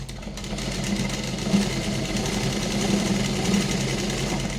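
A sewing machine rattles steadily as it stitches a folded seam on blouse fabric, a continuous close mechanical chatter with no talk over it.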